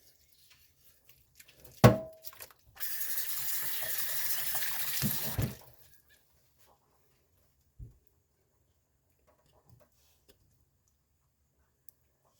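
Sealed canning jars full of taco meat are washed in soapy water. A sharp knock comes first, then a few seconds of steady rushing water, then the sound stops and a few faint clicks follow in near silence.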